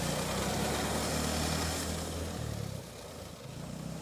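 Small Polaris snowmobile engine running through snow, a loud continuous motor drone that eases and drops in level near the end.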